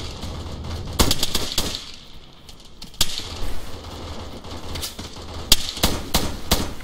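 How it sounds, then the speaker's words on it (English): Gunfire in the Arma 3 military video game, with scattered sharp cracks and short clustered bursts over a steady background hum, some shots louder and nearer than others, no talking. "shooting at us."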